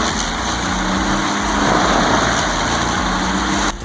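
A Diamond Z6000 wood chipper's diesel engine of over 1,000 horsepower runs with a steady, loud, broadband roar at close range, holding constant for several seconds before dropping off slightly at the end.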